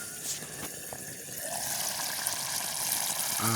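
A pot of curry made with mothakavalli root tubers bubbles at a steady rolling boil outdoors in a village kitchen right after the lid comes off, a continuous close gurgling wash with no talking.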